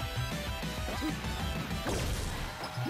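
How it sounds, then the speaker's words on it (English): Down smash attacks land in a Super Smash Bros. match during a tournament losers bracket set between Olimar and Sheik, with crunchy crash-like hit sounds over loud, steady game noise and crowd. "He's been letting these down smashes rip all day."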